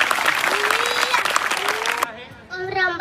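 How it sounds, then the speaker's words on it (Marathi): Applause breaks out at a small gathering, a dense burst of hand clapping that cuts off sharply after about two seconds, followed by a voice speaking. "टाळ्या वाजवा."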